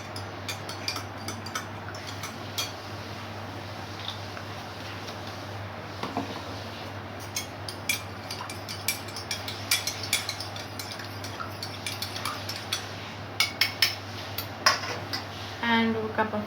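A spoon stirs honey into a cup of kadha, an Indian herbal brew, giving light, scattered clinks against the cup. The clinks are faint at first and grow busier and louder toward the end.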